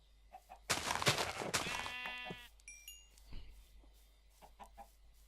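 Chickens cluck in the video game Minecraft, a burst of loud squawking followed by a scatter of shorter clucks and soft bleats, with small game sounds in between.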